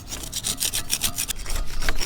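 Paint being scraped off greased rock crusher parts such as a heavy flywheel from an ACME 9-1/2D crusher, heard as rapid, close, rhythmic rasping strokes that go on continuously with no speech.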